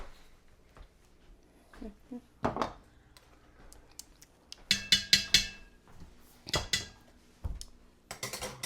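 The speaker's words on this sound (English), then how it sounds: "And you stir it, and you stir it, and you stir it." A spoon stirs chicken paprikash in a pot, giving scattered metallic clinks and scrapes in short bursts, with quiet gaps between them and a few louder clusters of clatter.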